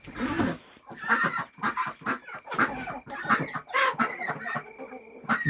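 Bantam hens cluck in short repeated bursts close by, mixed with higher peeps from their chicks, a busy farmyard chatter with no talking.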